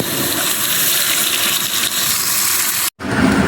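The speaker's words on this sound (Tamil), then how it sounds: "3 கேனு தண்ணி பிடிச்சிட்டோம்" Steady rushing water pours continuously into water cans, like a tap filling a container, with a brief cutoff near the end before the flow resumes.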